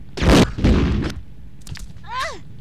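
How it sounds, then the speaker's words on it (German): Two loud, booming gunshots fire in quick succession in Resident Evil 2, each with a heavy decaying tail. A brief voice follows shortly after. "Wow, ein Schuss"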